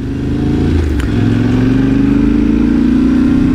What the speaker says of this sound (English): I love the sound of this engine. The note is just... Oh, even with the stock pipe, I, I like this. It has this deep grumble.